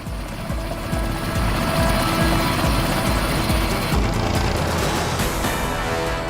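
A helicopter carries a bride away from her wedding in Pilibhit, its loud, steady rotor and engine roar running throughout.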